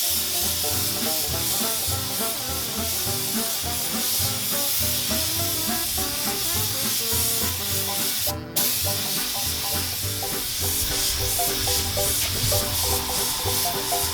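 Spray gun laying a heavy third coat of paint on the wood spoke wheels of a Durant car, a steady broad hiss running the whole time with one short break midway.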